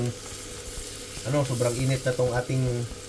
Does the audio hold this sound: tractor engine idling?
no